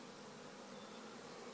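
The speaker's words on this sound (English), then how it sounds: "There's bees all out on the porch waiting to go in." A steady, dense insect buzz of a bee swarm fills the whole stretch, many bees humming together nearby, continuous with no pauses or voices.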